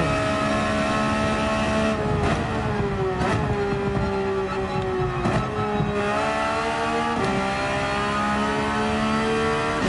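A race car engine in Gran Turismo 7 drones loudly and continuously, rising and falling in pitch through revs and downshifts under braking, with sharp gear-change dips every couple of seconds and no talk.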